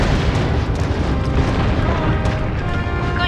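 Bombs exploding in the PS2 game Mercenaries, a dense, continuous roar of loud booming blasts and rumbling debris with no gaps for the full few seconds.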